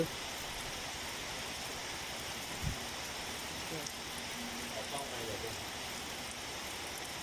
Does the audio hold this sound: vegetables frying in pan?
no